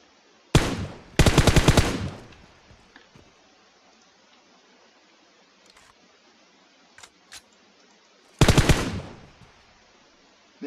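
Automatic gunfire in PUBG Mobile: a short burst, then a longer rapid rattle of shots a moment later, quiet stretches with faint distant pops, and another loud burst near the end, with no talk over it.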